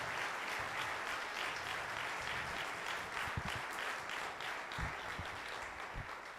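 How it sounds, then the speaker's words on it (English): A gathering claps for the candidates who shared their Orange County platforms, a sustained round of applause at moderate level with a few sharper nearby claps standing out toward the end. "why don't we give all of our candidates a round of applause for sharing their platforms"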